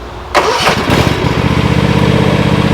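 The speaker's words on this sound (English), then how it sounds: "Let me fire this up and show you exactly how loud it is." A Cub Cadet Ultima ZT1 zero-turn lawn mower engine cranks and catches, then settles into a loud, steady idle close by.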